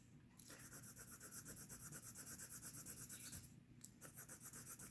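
A pencil is rubbed rapidly back and forth across paper in close, rhythmic strokes, with a short pause near the end before the scratching resumes.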